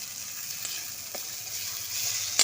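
Snakehead fish curry with fried potatoes being sautéed in a pan: a close, steady sizzle with faint stirring taps throughout.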